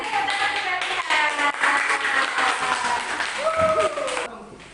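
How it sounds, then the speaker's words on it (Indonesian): Students in a classroom clap together for their classmates, a dense patter of hands running steadily for several seconds with voices talking over it before it thins out near the end. "Kasih tepuk tangan kalian."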